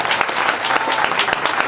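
A crowd claps steadily and loudly throughout at a gathering in a cow shelter, a dense patter of applause with no pauses.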